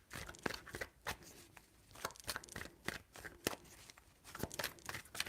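Tarot cards riffled and shuffled by hand, giving sharp papery bursts and crinkly flutters at an uneven rhythm, close and fairly quiet, with no talk.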